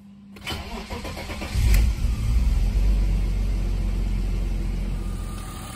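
A car engine with an epoxy-repaired plastic valve cover cranks and catches, then settles into a steady, close idle that holds for several seconds with no talking.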